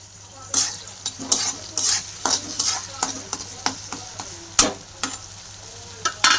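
Chopped onion and tomato frying in a pan, with repeated sharp scrapes of a spatula against the metal at a quick irregular rhythm over a soft background sizzle, close and fairly loud, no speech.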